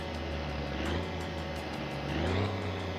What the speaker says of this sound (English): A buzzing sound and somebody struggling to start a truck.